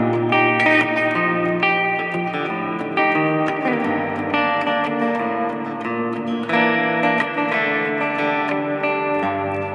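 An electric guitar plays a sustained, ringing riff drenched in reverb and effects, notes blooming and overlapping continuously with no voices.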